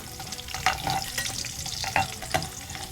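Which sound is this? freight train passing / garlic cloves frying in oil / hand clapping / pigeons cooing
garlic cloves frying in oil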